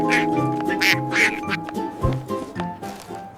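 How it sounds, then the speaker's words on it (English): A voice quacks twice like Pip the cartoon duckling on a monkey farmer's farm, the nasal calls coming close and clear over light background music. "Quack, quack."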